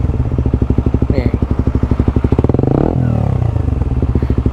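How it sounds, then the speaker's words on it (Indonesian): A Suzuki GSX-R150 motorcycle fitted with a Prospeed black CNC exhaust revs hard and close, its fast throbbing pulses climbing in pitch, briefly dipping, then pushing high again without pause. "gue RPM tinggiin ya"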